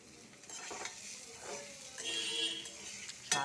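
Fried paneer and potato pieces being stirred into a sizzling cumin, green chili and ginger paste in oil, a steady hiss with a few scraping strokes and soft clinks, close and without voices.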